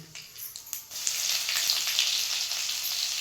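Mustard seeds and garlic masala drop into hot oil in a kadhai on a gas stove while a capsicum dish is being made. A few light clicks give way to a sudden loud, crackling sizzle that keeps popping steadily.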